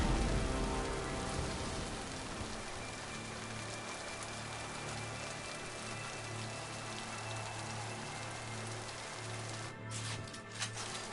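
Pouring rain falls during a Mass Effect video game mission, a dense steady hiss of rain on surfaces with a low hum underneath, continuous and fairly close throughout.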